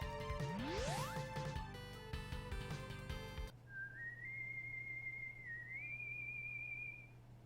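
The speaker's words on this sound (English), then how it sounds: "Seems like I just heard that whistle." A rising whistle tune from Proto Man in the Mega Man 8 video game rings out clearly and alone. It starts after a burst of game music and holds a steady melodic line over a low hum.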